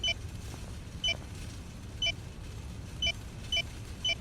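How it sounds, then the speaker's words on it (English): A repeating electronic alarm beep, sharp and fairly loud, sounds six times, with the gaps growing shorter toward the end, over a steady low rumble. "That awful beeping."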